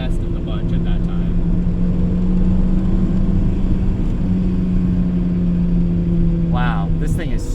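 A Mazda Miata NC track car with a Focus-derived engine drones steadily from inside the cabin at sustained revs, loud and even throughout, with someone talking over it.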